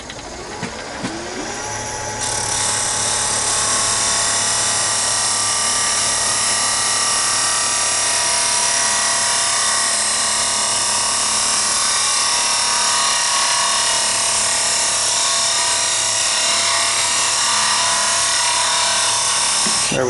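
A wood lathe turns a mushroom and dumpling rolling pin, giving a loud, continuous whirring hum with a rough cutting hiss from the tool against the spinning wood, steady throughout with no talking.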